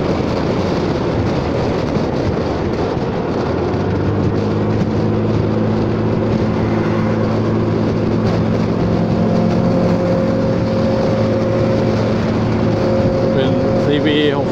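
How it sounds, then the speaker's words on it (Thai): A motorcycle passes on a main highway as the rider travels home on a Honda Forza 300 scooter, a steady loud engine and wind roar with rising tonal drone through the middle, and a voice speaking over it. "รถมอไซค์มา"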